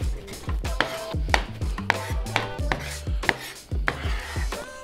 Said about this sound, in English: My chopping get you a little excited?